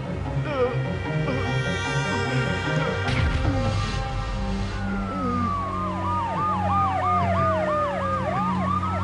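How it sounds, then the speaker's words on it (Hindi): An emergency siren wails in rising and falling sweeps over a busy dramatic scene with crashes and music, loud and close, as people speak. "ये सुन रहे हो ना, अ ब्यूटीफुल सायरन साउंड।"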